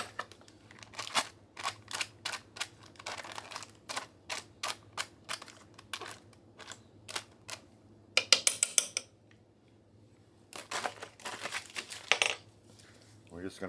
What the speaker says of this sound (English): We're just going to stir that until that melts in with that stroganoff.